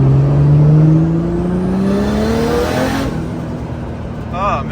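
A Volvo 240 running on E85 spins its wheels, its engine rising in pitch before easing off under tire noise, heard loud and close, with a brief squeal near the end.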